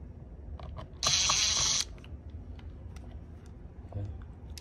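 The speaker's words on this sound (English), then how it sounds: "you can use the screwdriver to unscrew it" A screwdriver, probably powered, unscrews fasteners on a smart toilet's water heater in a short whirring burst of just under a second, mid-loud, with faint small clicks before and after.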